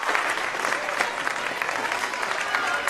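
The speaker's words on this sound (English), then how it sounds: "Good applause on that ball." An indoor audience at a volleyball all-star match applauds steadily with dense, continuous clapping, joined by faint crowd noise throughout.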